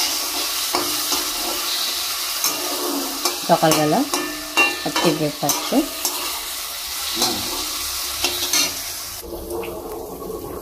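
Sliced potatoes fry in oil in a home kitchen pan for a rice-and-dal breakfast, a steady sizzle broken by repeated scraping stirs of a spatula, close up, while someone speaks briefly over it.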